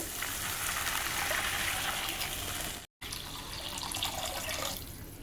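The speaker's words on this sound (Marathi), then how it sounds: "मी इथं दोन ग्लास पाणी घेणार आहे" Two glasses of water poured into a pot of sautéed vegetables and spring onion for veg soup, a steady loud gush of running water with a brief break midway, no talking.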